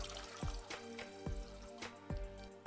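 Water trickles and splashes into a cooking pot in a quiet kitchen, with soft, uneven pours and a few sharp drips repeating about every half second.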